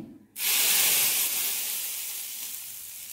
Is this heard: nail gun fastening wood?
no